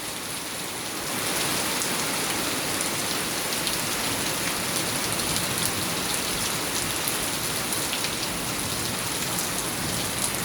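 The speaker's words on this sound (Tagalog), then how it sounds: "Unti-unti nang humihina yung yung ambon, ulan." Steady, dense rainfall pattering on surfaces, a continuous hiss that swells slightly after the first second and holds at an even level throughout, with no voices.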